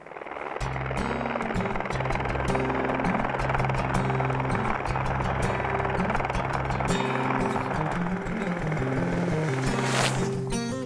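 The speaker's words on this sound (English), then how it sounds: "That's a helicopter that's got my name written all over it." Loud, continuous engine drone with a deep rhythmic chop of a nearby heli-skiing helicopter near Revelstoke, BC, steady throughout with clattering mechanical noise on top.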